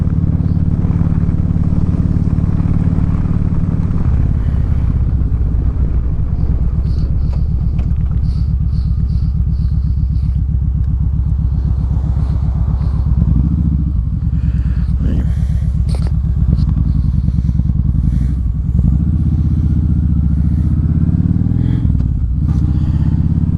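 A motorcycle rides along a road on a trip to covered bridges and then turns around, with a loud, steady low engine rumble and wind noise that shifts in pitch as it slows and turns.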